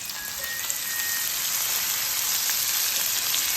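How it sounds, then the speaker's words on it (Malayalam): Onions sautéing in hot oil with cumin, ginger, garlic and mustard seeds for a potato and fenugreek-greens fry, giving a steady, even sizzle throughout, close and fairly quiet, with no talking. "പിന്നെ സവോള വഴറ്റുന്നു"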